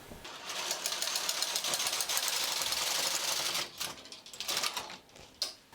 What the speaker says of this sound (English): So I thread the yarn, and I'm ready to knit the first row.